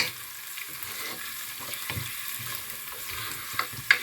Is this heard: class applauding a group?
no